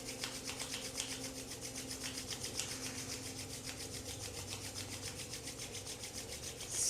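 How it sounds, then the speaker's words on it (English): Palms of the hands rubbed briskly together during a Kundalini yoga kriya, a soft, close, rhythmic swishing friction repeating steadily throughout, fairly quiet. "let's rub the hands together in front of the heart"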